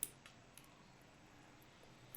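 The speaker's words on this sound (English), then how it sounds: "I'm hitting IAM, I'm hitting roles, then I'm clicking on create role." A computer mouse clicks while cloud console settings are navigated, a few sharp, faint clicks spaced out over quiet room tone, with a louder double click at the end.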